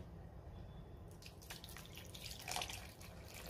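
Water trickles and splashes softly into a pan of Marathi-style dried-fish vegetable curry, a faint, brief pour heard close with no talking.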